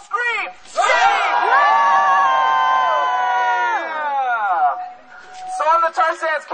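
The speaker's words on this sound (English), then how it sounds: "When I say scream, you all scream." Young protesters at a tar sands rally outside the American embassy scream together on cue, a loud sustained wall of voices that swells, holds, then breaks into scattered whoops and cheers.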